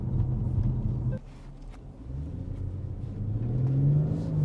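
A 2018 BMW M140i engine revs under throttle on the road, a low steady rumble that dips briefly then swells into a rising, droning pull, close and fairly loud with no talk.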